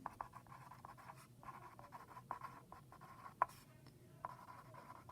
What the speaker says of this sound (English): for my introduction, I might just write down